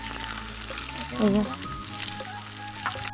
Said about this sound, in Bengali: তো এখন আমি আলুটা আবার ভাজছি, ঠিকভাবে এখন ভাজা হয়নি।